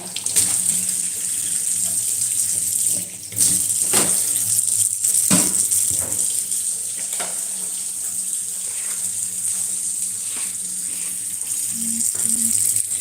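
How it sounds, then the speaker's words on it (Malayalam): Water runs steadily from a kitchen tap with weak pressure from the line pipe, a continuous hissing flow lasting throughout, with faint clinks and small knocks of dishes beneath. "ലൈൻ പൈപ്പിൽ വെള്ളം ഇല്ല എന്ന് തോന്നുന്നു ഫോർട്സ് കുറഞ്ഞിട്ടുണ്ട്"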